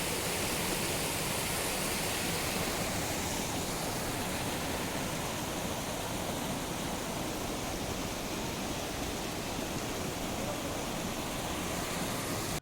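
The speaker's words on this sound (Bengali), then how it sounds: "জলের কি আওয়াজ, যেমন স্রোত তেমন আওয়াজ।" A mountain stream in East Sikkim rushes over rocks, a dense, constant roar of water close by that holds steady and loud throughout with no voices.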